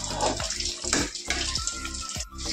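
Water runs and splashes into a basin or pot for soaking cut leafy greens in a home kitchen, a steady close rush with a few sloshing surges.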